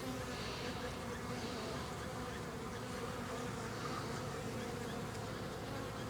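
Honey bees buzz steadily in front of a hive, a dense continuous drone of many insects at close range with no talking over it.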